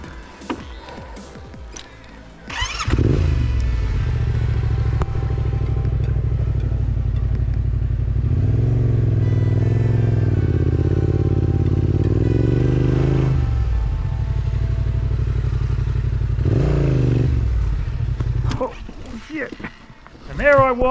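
A heavy 200-kilo adventure motorcycle labours up a steep hill in the Australian bush, its engine roaring loud and close for a long stretch, revs surging and sagging as it strains, then cutting back to quieter clatter at the end.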